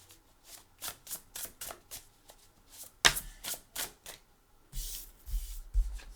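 Tarot cards are shuffled by hand in a quiet room, a run of quick riffling bursts and soft slaps in a loose rhythm, with one sharp snap partway through and a denser flurry near the end.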